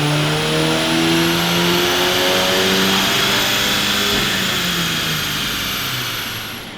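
A stock VW Golf GTI MK8 engine revving hard on a dyno during a test run, a loud, sustained rising engine roar with steady harmonic tones climbing in pitch, close and continuous, fading slightly at the end.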